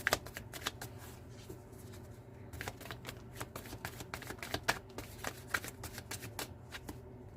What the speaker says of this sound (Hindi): लेकिन मैंने दोबारा शफल किया है।